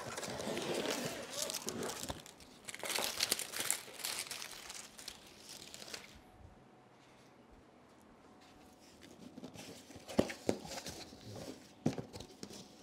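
Crinkling and rustling of packaging as a ProAc K1 speaker stand kit is unwrapped, close and busy in bursts, with a quieter gap in the middle and someone talking over parts of it.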